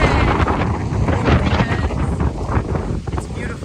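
Strong wind buffets the microphone on a cruise stop at Coco Cay, a steady loud roar with gusty rushes throughout, and voices are faintly mixed in beneath the noise.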